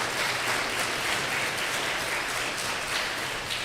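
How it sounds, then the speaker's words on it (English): Steady, dense applause from a vigil audience fills the room continuously, loud and even throughout with no breaks and no talk over it. "let's give them a round of applause"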